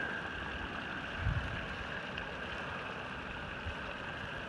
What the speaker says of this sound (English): You can see this water is actually boiling down here